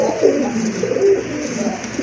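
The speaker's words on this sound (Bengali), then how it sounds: "খুবই ভালো মানের এক জোড়া খয়রা গলা কবুতর রয়েছে" A pair of brown-necked Giribaz pigeons cooing up close, soft low throaty coos repeating steadily over a faint background hum, with no talking.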